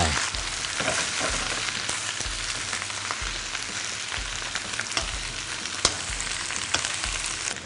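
Cabbage stir-fried over high heat in oil with white, uncrisped garlic for a Thai fish-sauce dish, a loud continuous sizzle close by, broken by regular low thumps and occasional clatter of the pan.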